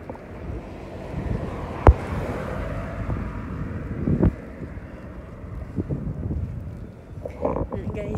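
Wind blows outdoors on a city walking tour in Gothenburg, Sweden, producing a constant low rumbling buffet against the microphone. A few brief louder gusts and thumps rise from it, with faint voices near the end.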